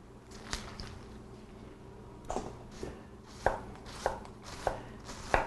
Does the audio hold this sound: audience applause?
no